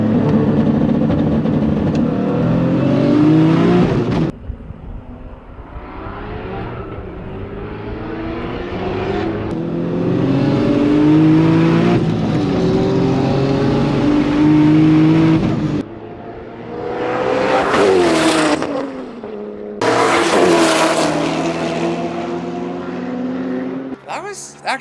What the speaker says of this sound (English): Koenigsegg versus Supra round 2.